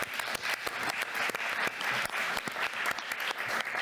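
An audience at a polar summit in Paris applauds officials, a dense, steady round of many hands clapping at close range, with sharp individual claps standing out from the mass throughout.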